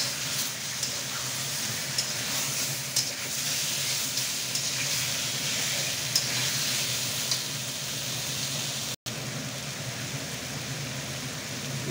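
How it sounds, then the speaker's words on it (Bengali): Fish and green banana frying in a pan with salt and turmeric, a constant close hiss and sizzle with occasional stirring knocks, with no talk and one brief dropout near the end. "মাছ আর কলা দিয়ে ভালোভাবে আমি কষিয়ে নিচ্ছি"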